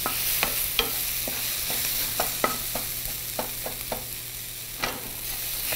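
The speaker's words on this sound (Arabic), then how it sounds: "ورح نستمر بحمص الثوم والبصل سوية." Sliced garlic and onion sauté together in a pan, a steady sizzle broken by sharp clicks and scrapes of a stirring utensil at irregular intervals, close and moderately loud, with no talking.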